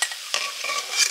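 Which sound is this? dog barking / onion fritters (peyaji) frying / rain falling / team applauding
onion fritters (peyaji) frying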